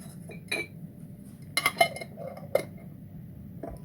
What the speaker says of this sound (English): Right, I'm going to put a lid on it